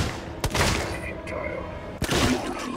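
Gunfire from the video game Alien: Isolation, a couple of sharp loud bursts with a broad background hum between them and speech-like sound mixed in.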